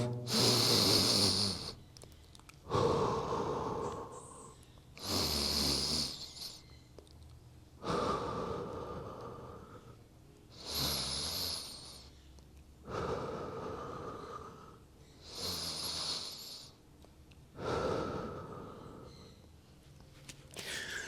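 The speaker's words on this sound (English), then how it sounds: "Really breathing." Heavy breathing during a yoga stretch in baby pose, slow deep breaths in and out repeating about every two and a half seconds, close and fairly quiet, each exhale a breathy rush.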